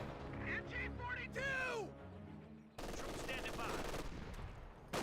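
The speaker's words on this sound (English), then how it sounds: "Grenadiers inside the garrison, firing away." Grenadier squad firing from inside a garrisoned building in Company of Heroes 2, a steady crackle of rifle and machine-gun fire running throughout, mixed with other battle noise and a swooping whistle early on.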